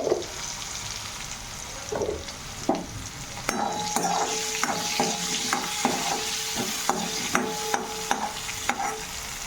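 Food frying in a pan with salt and a little turmeric, a steady soft sizzle broken by frequent scraping and clinking strokes of a spatula stirring through it.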